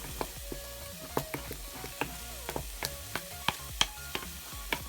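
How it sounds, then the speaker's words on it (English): Cheese and parsley being stirred in a hot pan so the cheese melts, with a quiet steady sizzle and a spoon scraping and tapping the pan in irregular clicks. "we're going to stir this so that the cheese melts"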